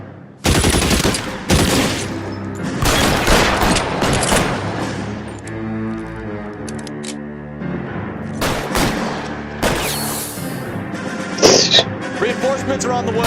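Gunfire rattles through a police video game as bursts of loud, close automatic shots and booms, with game voices shouting over the shooting.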